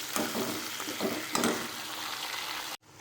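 Chopped tomatoes and green chillies sautéing in a pan for a Tamil garlic kuzhambu, a soft continuous sizzle with a few faint stirring scrapes, close and quiet, ending abruptly.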